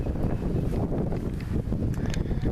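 Steady outdoor wind rushes and buffets the microphone for the whole stretch, a dense continuous roar with small gusty flutters and no voices.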